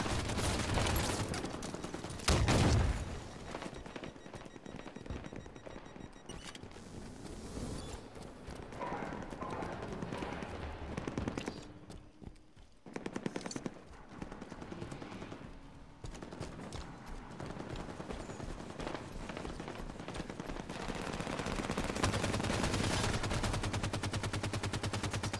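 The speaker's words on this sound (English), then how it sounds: "Shooting and killing an enemy ghost." Bursts of rapid automatic gunfire in a Halo 5 Warzone battle, loud and close at times, mixed with vehicle noise and repeated rattling shots across the stretch, no talking.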